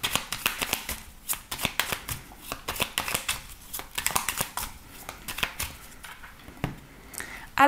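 Oracle cards shuffled by hand for a reading, a quick run of soft papery riffles and slides repeating close to the microphone, with brief pauses between bursts and no talking.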